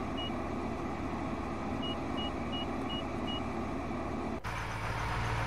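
Evenly spaced electronic reversing beeps sound from a truck in a farming video game, riding over a steady engine drone. The engine tone shifts abruptly near the end.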